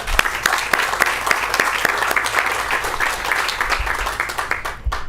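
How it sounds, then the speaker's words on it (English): A round of audience applause at a corporate quality summit, many hands clapping steadily and fairly close, fading slightly toward the end. "Big hand of applause for teamwork."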